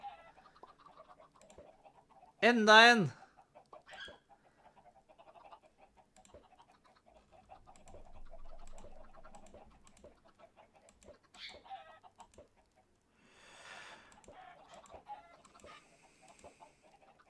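Chickens in Minecraft, with a loud cluck standing out early and softer clucks and pecking sounds scattered afterward over a quiet background, plus a brief spoken word.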